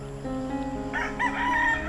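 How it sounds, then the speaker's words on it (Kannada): Roosters kept by farmers, raised as fighting cocks, crow on a farm; a steady low hum underlies the clip, then a loud crow rises in the second half, fairly close. "ಕೋಳಿ ನೋಡಿ, ಯಾರೋ ರೈತರು ಸಾಕಿರೋದು."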